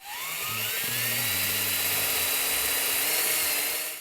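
A power drill bores a hole through a guitar routing template for a custom guitar build, its loud, high whine winding up in pitch and holding steady with no voices.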